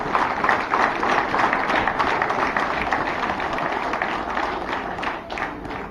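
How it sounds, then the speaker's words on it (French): Sustained applause from a large audience at an associations parade in Le Carbet, dense and steady clapping that fills the whole stretch without pause. "je vous demande d'applaudir très fort."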